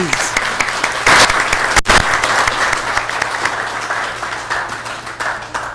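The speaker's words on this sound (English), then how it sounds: "Give them a round of applause, please." Lively applause rises at an Atwater city council meeting, a crowd clapping continuously with bursts of louder claps near the start, then gradually thinning as voices murmur beneath.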